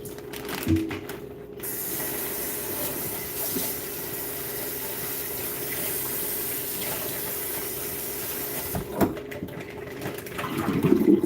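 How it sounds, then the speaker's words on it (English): Liquid is poured out in a steady, soft, splashing stream that runs for several seconds, framed by a few faint clicks and knocks at the start and end. "Let me go ahead and pour this out."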